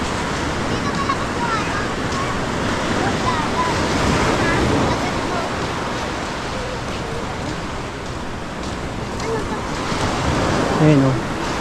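Sea waves wash steadily against the seashore as a broad, loud, unbroken roar, with wind buffeting the microphone throughout.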